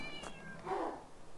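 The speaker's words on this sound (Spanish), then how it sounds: "Maulla después de muerto." A cat meows inside the horror video game Mad Father, one short, fairly clear mew standing alone over faint background ambience.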